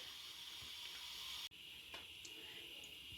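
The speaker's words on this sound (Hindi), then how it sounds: "पानी बॉईल हो गया है।" Water in a pot coming to a boil for palak paneer gives a steady hiss with a faint bubbling wash, broken by a brief dip halfway through before the hiss resumes.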